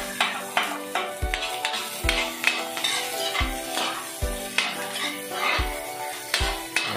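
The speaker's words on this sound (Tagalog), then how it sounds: "Lagay na natin ang ating bawang at sibuyas, guys. Ayan. Ayan, halo-halo lang natin." Garlic and onion sautéing and being stirred in a pan for pinakbet, with rhythmic metal scraping and knocking against the pan over a soft sizzle, close and repeated every second or so, no speech.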